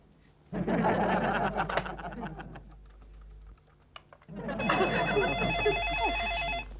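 An electronic phone ring trills in two bursts with a pause between, the second longer, mixed with a voice and light tapping.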